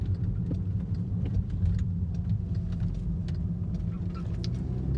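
Inside a moving car, a steady low engine and road rumble fills the cabin continuously, with faint scattered clicks above it and no clear talk.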